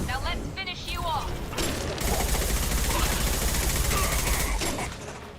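Gunfire from the video game Halo, a rapid mechanical burst of shots and ratcheting weapon clatter, loud and continuous, with a voice talking briefly near the start.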